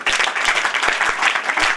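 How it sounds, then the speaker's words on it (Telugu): Schoolgirls at a government girls' high school event break into lively, sustained applause, a dense patter of many hands clapping close by from start to finish. "మంచిగా క్లాప్స్ కొట్టండి."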